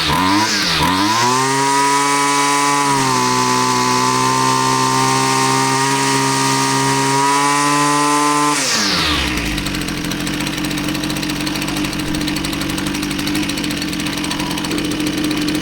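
A Husqvarna 122L string trimmer with a modified 3/8 inch intake hole runs loudly and close up, its two-stroke engine revving high for several seconds and then dropping back to a rough, steady idle.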